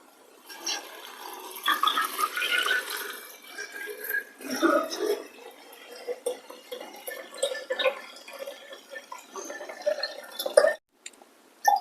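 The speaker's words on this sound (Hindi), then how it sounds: "2 लीटर पानी ऐड करते हैं।" Two litres of water pour into a vessel for beetroot kanji, giving an irregular run of splashing, gurgling and dripping that rises and falls for several seconds, then stops abruptly near the end.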